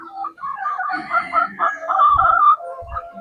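A backyard-bred fighting rooster crows loudly and close in one long, wavering call lasting about two seconds, followed by a couple of short clucks.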